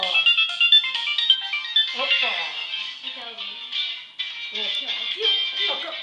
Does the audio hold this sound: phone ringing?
yes